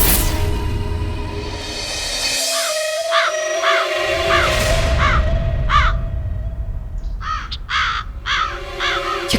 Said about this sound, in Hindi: ये कौवा फिर से काय काय करने लगा है।